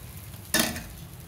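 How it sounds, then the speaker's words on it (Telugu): Pesarattu batter hitting a hot pan and spreading thin, one sudden sizzling hiss that fades quickly over a faint background hum. "ఇప్పుడు ఈ పిండితో పెసరట్టు వేసుకుందాం. ఇలా పలుచగా వేసుకోవాలండి."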